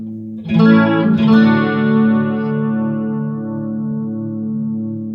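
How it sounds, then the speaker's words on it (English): Electric guitar through the overdrive channel of a Marshall MG100HDFX amp: a couple of struck chords, then a single overdriven chord ringing out and slowly fading, alone with no talk. "Sounds more like an overdrive."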